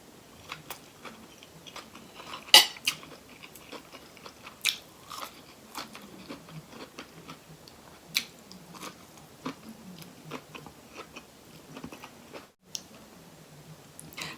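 Peanuts being crunched and chewed up close, with repeated sharp bites and crackles in an uneven rhythm, with no talking.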